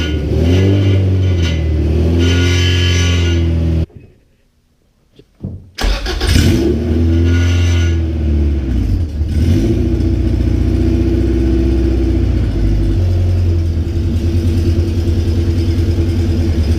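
A freshly started car engine from a hatchback idles steadily and loudly up close with no throttle, dropping out briefly partway before resuming its smooth, continuous idle.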